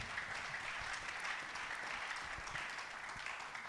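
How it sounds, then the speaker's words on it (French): A church congregation applauds at a sermon, with steady, fairly distant clapping that continues throughout with no voices over it. "Est-ce qu'on peut acclamer pour ces paroles?"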